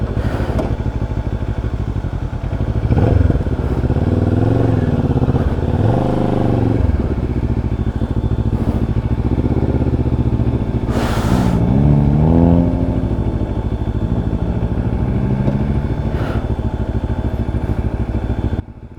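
A Xcape 650x motorcycle engine running on a mountain road trip, a loud close idle thumping with several revving swells and clattering mechanical noise, steady throughout with no speech.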